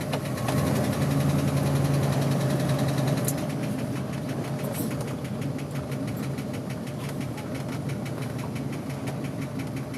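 A 1956 Packard Executive's engine pulling away and cruising, a steady mid-pitched hum with faint knocking vibration, continuous and close without talk.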